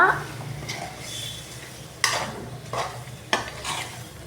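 Masala sizzling and being stirred in a pan for a yogurt chicken curry, with steady frying hiss and a few sharp utensil scrapes and clinks against the pan, close and clear.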